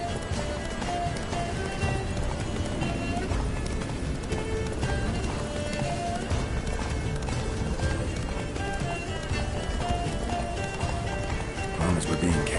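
Roach, Geralt's horse in The Witcher 3: Blood and Wine, gallops steadily with a continuous clip-clop of hooves, and a brief whinny, under busy game music and intermittent talking voices.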